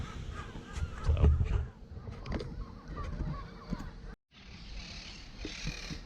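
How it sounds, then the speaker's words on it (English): Wild rainbow-colored parrots squawk and call from trees in a park, a dense chorus of harsh repeated cries at a middle distance over steady outdoor background noise, with a brief dropout partway through. "There's all wild parrots up in the trees in this park."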